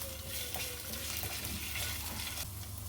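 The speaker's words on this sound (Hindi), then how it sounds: "एक छोटा चम्मच इसमें जाएगा लहसुन अदरक का पेस्ट। 1 मिनट के लिए इसे हम फ्राई कर लेंगे।" Ginger garlic paste frying in hot oil in a pan, a steady close sizzle with faint stirring scrapes, no voices.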